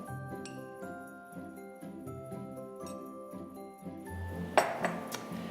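Butter, light brown sugar and cinnamon being stirred together in a bowl, with steady rhythmic clinks and scrapes of a utensil against the dish, a brighter clatter near the end, over quiet background music.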